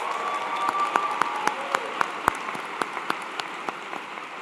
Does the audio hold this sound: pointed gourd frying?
no